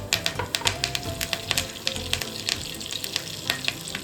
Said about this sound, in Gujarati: બે ચમચી જેટલું આપણે તેલ એડ કરશું થોડી રાઈ એડ કરશું ને જીરું